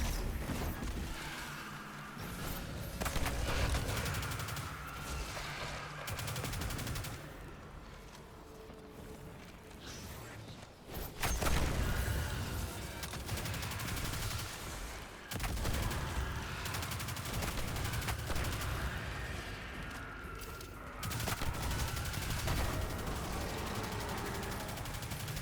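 Video game gunfire in Destiny 2, sustained bursts of rapid shots and fusillades in close combat, loud and continuous with short lulls and mechanical clatter.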